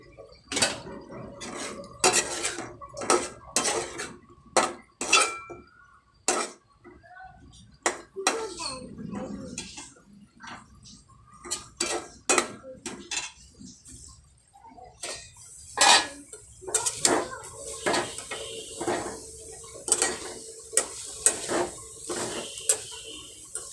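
Hilsa fish cooking in a pan with greens, metal utensils clinking and scraping against cookware in repeated sharp knocks, with faint talk in the background.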